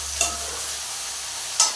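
Onion, tomato and mint sauté in oil for mint chutney, a brief, even sizzling hiss with two sharp stirring clinks, close and without voices.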